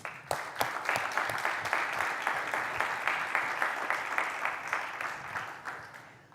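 An audience at a law school town hall applauds steadily, a close, even patter of many hands clapping without pause for several seconds, no voices over it.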